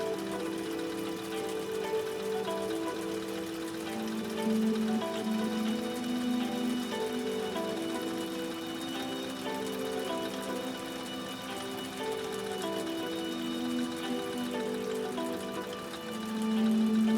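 A Husqvarna Viking 2000 sewing machine runs steadily through a decorative stitch pattern, giving a continuous, even mechanical hum with a slight rhythmic whir that holds at a constant level throughout, with no talking.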